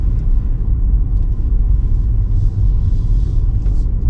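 A BMW 330i M-Sport (G20) pulls away in drive, giving a continuous low engine and road rumble inside the cabin, steady and moderately loud, with no voices.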